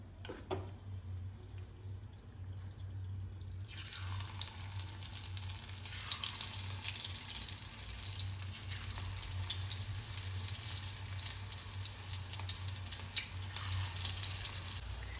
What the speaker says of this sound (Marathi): तर आता आपला भजी असं क्रिस्पी छान लालसर तळून झाले